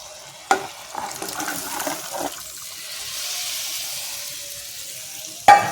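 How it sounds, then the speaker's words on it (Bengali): Boiled peas for ghugni poured into hot, cooked-down masala in a pan, giving a sudden loud splash and burst of sizzling, then a steady hiss of frying with soft stirring scrapes and a sharp clatter near the end. "এবারে আমি এর মধ্যে ঘুগনিটা, মটর সেদ্ধটা ঢেলে দিচ্ছি"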